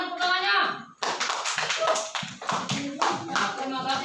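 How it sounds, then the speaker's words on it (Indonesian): Schoolchildren in a classroom clapping for a group, sharp uneven hand claps and taps mixed with children's voices and talk. "tepuk tangan untuk kelompok 3"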